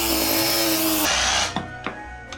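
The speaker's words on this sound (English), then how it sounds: "Let's go with this 1/2 inch bit." A half-inch bit bores into a wood piece with a loud, steady power drill whine that stops after about a second, followed by a few sharp knocks and clatters.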